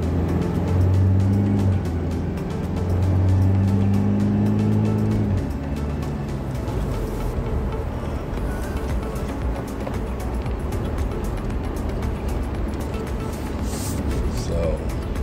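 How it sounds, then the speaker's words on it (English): Heavy road traffic on a route through Zambales, Philippines, with a continuous roar of engines and tires that swells as vehicles pass close by. "It's just extreme traffic."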